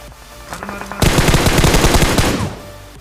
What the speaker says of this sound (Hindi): दूर से कोई बंदा हम पे शॉट्स ले रहा होता है।